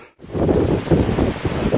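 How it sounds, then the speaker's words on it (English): Gusty wind buffets the microphone at an outdoor bottle-digging site, a loud, continuous rumbling roar with uneven surges across the short stretch. "Why is it windy all of a sudden?"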